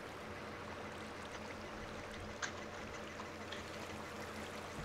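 Water pouring down a waterfall in a Minecraft ravine, a constant rushing hiss of flowing water that stays even throughout with no talking.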